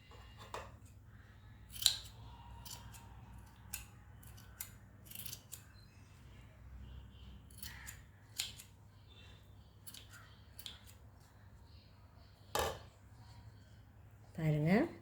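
Scissors snip popsicle stick and CD craft material for a bird cage craft in sparse, sharp, close cuts scattered over a quiet background, with soft speech in places.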